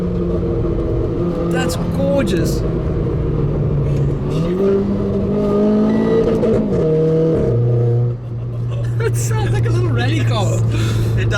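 Renault Clio RS 220 Trophy hot hatch engine droning loud and close, its pitch sliding up and down through gear changes before settling to a lower steady tone after an off-throttle drop, with a voice speaking briefly over it.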